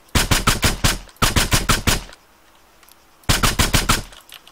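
Bursts of automatic gunfire in the combat video game ARMA 3: three rapid strings of loud, close shots, each about a second long, separated by short pauses, with no talk.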